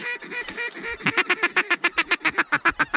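A big flock of ducks coming in low over a hunt, loud close quacking that breaks into a steady rapid run of evenly spaced calls, with no talk over it.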